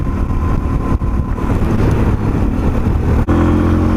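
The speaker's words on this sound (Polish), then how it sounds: "Za mną motorzyści, zaraz będą mnie wyprzedzać na fajnych, dużych maszynach." Loud, steady engine roar of large motorcycles overtaking close by, a continuous rumbling drone with no speech.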